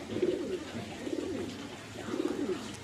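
Several pigeons, kept as pairs and bathing nearby, coo in low repeated rolling phrases, three soft bursts spread across a few seconds under steady faint background noise.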